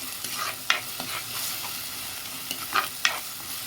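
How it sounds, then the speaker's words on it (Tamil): Ground garlic, onion and curry leaves sauté in oil for a green gram curry, giving a soft continuous sizzle broken by a few quick scraping stirs of a ladle in the pan. "இந்த எண்ணெயிலேயே வதக்கிக்கோங்க."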